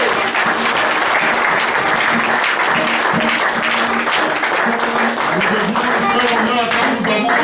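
A church congregation applauds loudly and continuously, a dense, even wash of many hands clapping together throughout.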